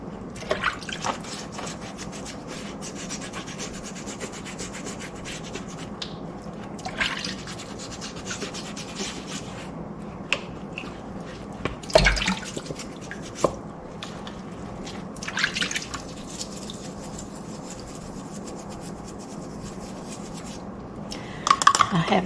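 Soapy water squelches and rubs as a stained ball cap is scrubbed by hand, a low continuous wet scrubbing with occasional drips and louder splashy bursts.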